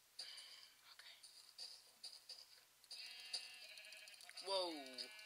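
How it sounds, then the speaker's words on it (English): Sheep bleating in a video game, a few separate bleats with one long wavering call near the end, under a person talking and game sounds. "Sound like two sheep there."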